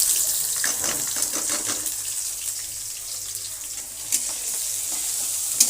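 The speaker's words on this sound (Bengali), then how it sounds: "এখন আস্তে আস্তে পেঁয়াজগুলো ভাজবো" Onions sizzling in hot oil, a steady hiss with scattered pops and crackles, close by and continuous without talk.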